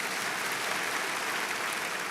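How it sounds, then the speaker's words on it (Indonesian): A church congregation at a worship service in Bethany Nginden, Surabaya, claps loudly and steadily. The applause is a dense, continuous wash that holds evenly for the full stretch, with no voice over it. "tepuk tangan yang keras buat Tuhan"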